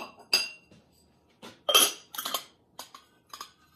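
Glazed ceramic butter dishes clink and knock together as they come out of a glaze kiln. The bright, separate chinks ring in irregular bursts with brief pauses between, close up and with no talking.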